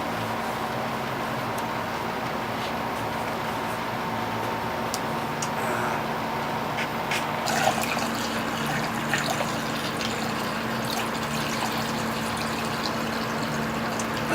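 Homemade wine running through a siphon hose from a settled pot, a faint steady trickle and low flow under a constant hum, with a few small knocks and rustles.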